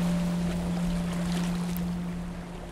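A steady wash of surf noise from a beach in the survival game Miscreated, waves hissing continuously with a low hum underneath, no voices.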